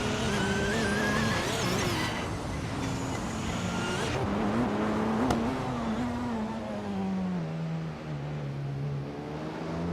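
LMP1 race cars, with a Porsche leading, in a racing video game on the Goldenport track, their engines droning loudly and continuously as the pitch climbs and falls through gear changes, with a brief screech midway.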